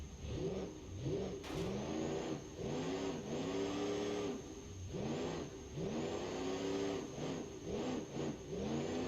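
A V8 diesel engine in BeamNG.Drive revs in repeated rising and falling bursts, steady and loud, each pull climbing in pitch before dropping back to idle, with no talk.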